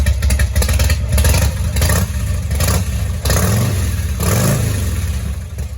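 A Harley-Davidson Evo V-twin fitted with a Screaming Eagle ignition unit runs loud and close, its steady low rumble swelling in a few rev pulses over about six seconds, with no talking.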